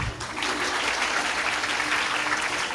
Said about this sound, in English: இப்போ ஒழுங்கா clap பண்ணலாம்.